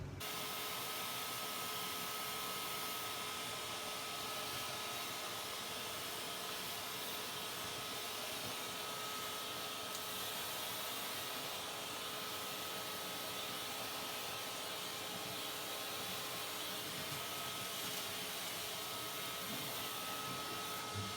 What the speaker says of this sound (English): since I got it vacuumed out and swept out